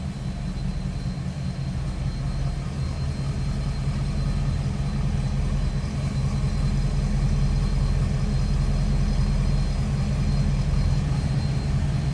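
A 1966 Buick Wildcat convertible with a 401 V8 idles steadily close by, a deep low rumble holding an even level throughout with no voices over it.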